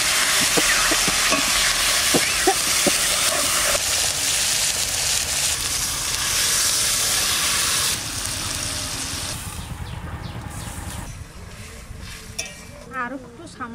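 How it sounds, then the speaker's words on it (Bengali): Chirebata river fish hitting hot mustard oil with dried chilli, bay leaf and cumin, giving a loud, steady sizzle and stirring clatter close by that eases off partway through, with brief voices mixed in. "এবার এই মাছ কটা দিয়ে দেবো।"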